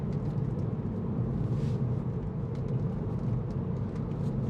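A 2015 MINI Cooper SD three-door hatch with a 2.0 diesel and six-speed automatic being driven fast, a steady loud engine and road rumble filling the cabin without a break.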